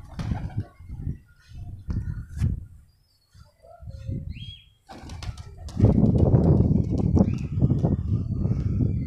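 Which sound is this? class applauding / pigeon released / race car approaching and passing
pigeon released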